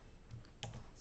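A few light keystrokes on a computer keyboard, faint and close, with two or three soft taps clustered near the middle over a quiet room hum and no voices.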